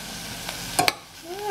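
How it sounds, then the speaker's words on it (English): Celery, onion and shallots sautéing in a pan, a soft sizzle with a couple of sharp utensil clicks against the pan near the middle. "I'm just going to saute that until the celery and onions get a little soft"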